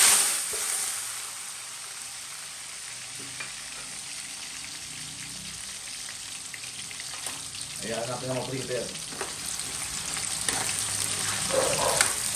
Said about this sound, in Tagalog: So ito guys, prito muna natin patatas, carrots.